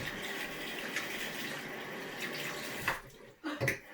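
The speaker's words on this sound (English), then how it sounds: "Keep the water running." Tap water pouring steadily with a broad splashing hiss, briefly disrupted near the end as hands move through the stream.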